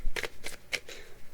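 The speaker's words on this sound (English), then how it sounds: "I'm just going to shuffle these really quick" A deck of cards shuffled quickly at close range, with three or four short crisp riffling bursts in quick succession.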